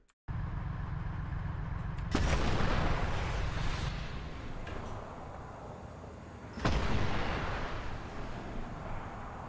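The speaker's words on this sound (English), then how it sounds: "Because it's firing off the missiles when I don't want it to" Missiles launch in a jet combat flight game, two loud roaring whooshes a few seconds apart over a continuous heavy engine rumble, close and forceful with no talk.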